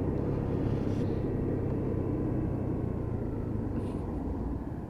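A Lexmoto Titan motorcycle engine runs while riding with the throttle rolled off, a steady low rumble with road and wind noise, close and continuous, slowly easing in level.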